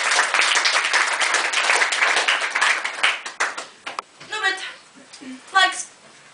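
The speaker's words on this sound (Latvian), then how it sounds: "Tad aplaus Alisei, kurš šeit nav" An audience applauds for Alise at a TIT event, dense clapping filling the first few seconds before thinning out as voices and a few scattered claps take over.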